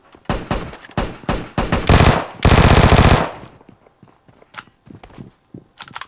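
Rapid automatic gunfire from a video game weapon, several loud bursts of fast shots in the first three seconds followed by scattered quieter single shots and thuds.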